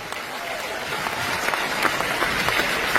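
An audience claps at a live stage speech, giving a steady wash of applause at moderate volume with a few sharper claps standing out across the whole stretch.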